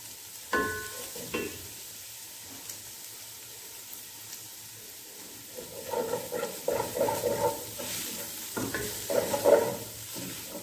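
Chicken sautés for hot and sour soup, a steady hiss of frying with intermittent scraping and stirring of the pan that grows busier toward the end, close up and without talk.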